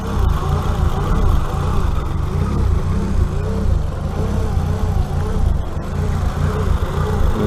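A Ford Puma track day car with its fuel return blocked off idles unhappily, a dense, continuous low engine drone that runs on without a break and without talk.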